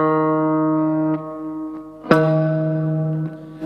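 A single guitar string rings out on a sustained note, steady and clear, then is plucked again mid-way and keeps ringing with no voice over it.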